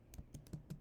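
Keys tapped on a computer keyboard while writing Java variable syntax, four or five distinct clicks at an uneven pace, close and fairly quiet, with no talking.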